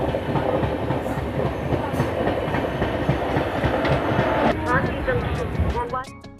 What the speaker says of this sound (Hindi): ट्रेन किसी पैसेंजर ट्रेन को ओवरटेक कर रही है और बढ़ रही है ग्वालियर जंक्शन की तरफ।